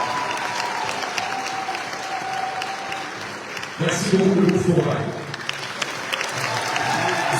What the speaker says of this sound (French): C'est vos applaudissements bien entendu.